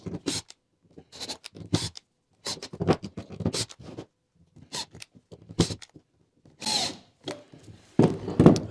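Power drill driving screws into a wooden coffee table, short whirring bursts separated by pauses, close up, with a few scrapes of wood.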